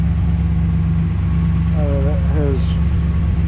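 A 1959 Plymouth Sport Fury engine idles with a steady, loud low rumble while someone talks briefly over it.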